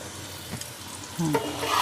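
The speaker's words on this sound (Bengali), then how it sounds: "ঢাকা দিয়ে দিয়ে আলুটাকে ভেজে নেব" Potatoes frying in oil in a covered pan, with a soft background sizzle broken by a stirring scrape and the clatter of the lid being handled, close up with no speech.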